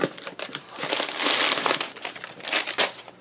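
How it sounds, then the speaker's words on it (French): Packing paper crinkles and crushes close up as a Kickstarter board game parcel is unboxed, loud papery rustling in uneven bursts that swell and fade, with no talking. "Des papiers."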